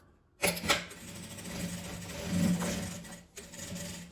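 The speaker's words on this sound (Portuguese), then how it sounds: "E vou passar uma costura de cima e embaixo." A sewing machine stitches clear crystal plastic onto fabric for a travel organizer, whirring in a fast continuous run for about three seconds, pausing briefly, then starting up again.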